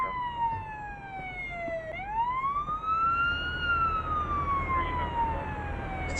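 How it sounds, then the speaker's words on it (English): A loud police siren in the video game Police Simulator: Patrol Officers wails steadily, sweeping slowly up and down in pitch over a low background rumble. "apologies for the siren"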